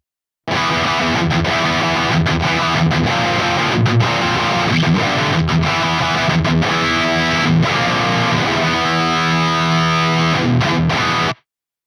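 An electric guitar played through the overdrive channel of a Soldano SLO-100 amp plugin, thick distorted chords ringing continuously at loud volume.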